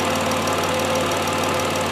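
Swapped 3.7 Duratec engine running with its exhaust, a steady, loud, close idle drone with an even throb throughout.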